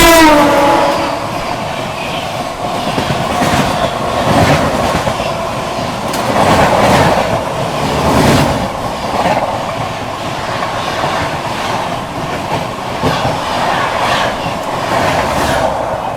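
Passing train hauled by a Vadodara shed WAP-7 electric locomotive, heard as a loud continuous rumble with rhythmic clickety-clack of wagons rolling by at close range, a brief horn near the start, no talk.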